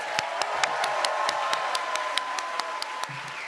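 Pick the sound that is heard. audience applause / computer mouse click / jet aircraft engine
audience applause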